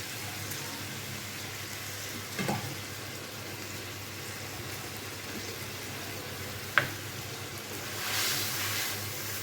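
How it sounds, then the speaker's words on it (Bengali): A steady, soft sizzling hiss of spice paste frying in a pan for rajma, broken by a couple of sharp clicks and a brief stir. "এখন মশলাটাকে খুব সুন্দর করে ভাজা ভাজা করতে হবে"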